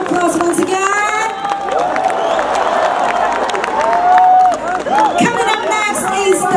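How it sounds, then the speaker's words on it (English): A crowd at a rock competition results ceremony breaks into applause and cheering: loud, continuous clapping with whoops and shouts rising above it and general crowd noise running throughout. "Ladies and gentlemen, a round of applause once again"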